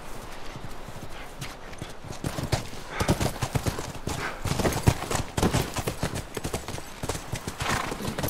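Horse hooves clip-clopping on the ranch in The Last of Us Remastered, a steady close trotting rhythm of sharp knocks with a brief whinny, carrying on without pause.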